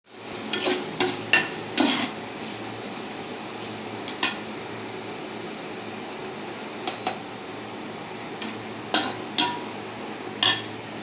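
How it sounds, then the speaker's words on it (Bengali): Mushrooms fry in a pan under a steady low sizzle, punctuated by repeated sharp scraping and clinking stirs of a spatula against the pan, close and clear with no talking. "মাশরুমটা প্রথমে একটু ফ্রাই করে নিই।"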